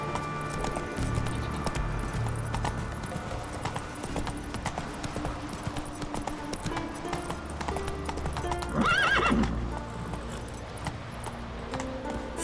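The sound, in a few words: horse Roach galloping, hooves clip-clopping, in The Witcher 3 video game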